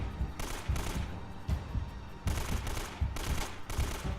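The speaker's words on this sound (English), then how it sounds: "The AK is such a weak weapon. I swear it takes so many shots to put these guys down." AK rifle fire in the Uncharted: Drake's Fortune video game, rapid bursts of automatic shots repeating in several volleys at a fairly quiet level, with no speech over it.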